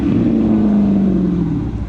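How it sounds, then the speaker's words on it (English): A distant Lamborghini Aventador approaching, its engine a sustained droning tone that slowly drops in pitch as it holds, loud and unbroken with no talk over it. "It sounds like another Aventador coming."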